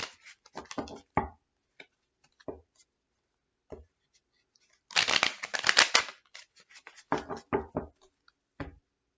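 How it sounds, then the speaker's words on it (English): Quick bursts of shuffling a deck of tarot cards, riffling clatter in short spurts with a longer loud flurry in the middle, close by and separated by pauses. "Okay, one more shuffle."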